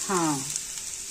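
Onion browning in a hot pan gives a steady, close hiss, with a brief tonal voice-like sound at the start.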